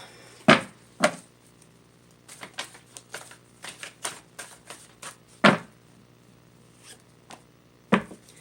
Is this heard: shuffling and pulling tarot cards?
yes